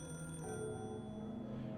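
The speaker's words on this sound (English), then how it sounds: "The phone was still ringing." A telephone rings in the Higurashi When They Cry video game, a steady electronic bell tone repeating late at night, moderately quiet with no talk over it.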